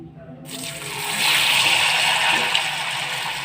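Eggs dipped into a gram flour and rice batter, a soft wet swishing and gloopy sloshing rising after a short silence, close and alone.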